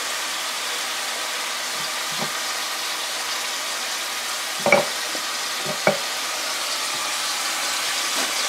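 Rabbit pieces searing in a pan give a soft, steady sizzle, with a few brief louder pops and crackles over the hiss and no talking.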